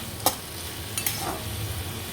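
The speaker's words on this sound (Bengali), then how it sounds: "আলুটা ভাজা হলেই হয়ে যাবে আলুটা ভাজা হলেই চা বসিয়ে দেবো" Potatoes fry in a pan with a steady sizzle, while a few sharp scraping clicks from stirring break through near the start and middle.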